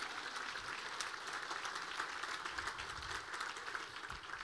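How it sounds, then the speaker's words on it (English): A roomful of people applauds event sponsors at a business forum, with steady, sustained clapping from the audience throughout, neither fading nor breaking off. "Let's give a round of applause to all of those sponsors."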